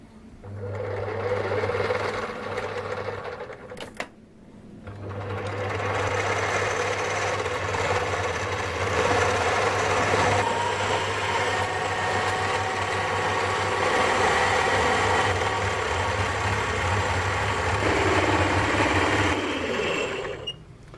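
A metal lathe takes a light quarter-millimetre cut on a tailstock quill for a Gingery dividing head, a steady close machining drone with a continuous low hum, briefly interrupted early then running on evenly.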